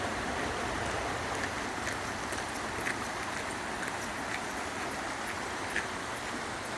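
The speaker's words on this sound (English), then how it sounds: "We walk alongside this river" The Credit River in a Mississauga park flowing steadily, a soft continuous rush of water with faint scattered splashes, moderately distant and quiet with no talking.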